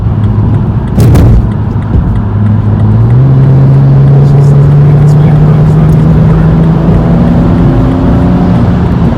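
A BMW M235i xDrive accelerates in Sport Plus mode, a loud close engine drone rising in pitch through a gear change, heard from inside the cabin with a brief thump near the start.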